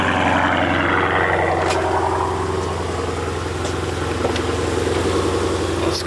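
A Dodge Challenger SRT 392 V8 idles close by with a deep, steady, lumpy burble, a few faint clicks and knocks showing over the even engine rumble and no talk.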